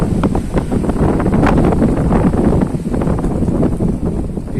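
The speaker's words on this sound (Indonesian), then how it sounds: "Angin ya." Wind buffets the microphone at a wave-battered seaside fishing spot, a loud, continuous rumbling roar with gusty fluctuations and no clear voices.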